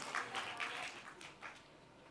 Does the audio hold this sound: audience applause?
yes